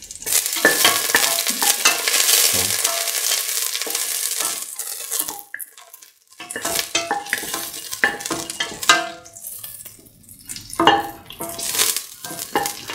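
Cashews sauté in hot butter in a pan, giving a steady bubbling sizzle broken by repeated scraping and clinking of a spoon stirring, loud and close, with brief pauses between strokes.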